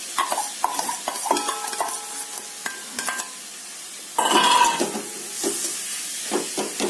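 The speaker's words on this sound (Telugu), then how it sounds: "అది మొత్తం ఈ నెయ్యిలో వేసేసి శుభ్రంగా పచ్చివాసన పోయేలాగా మనం వేయించుకుందాం" Half a kilo of grated beetroot fries in hot ghee while a spoon stirs it, giving a steady close sizzle broken by scraping strokes and a few clinks against the pan.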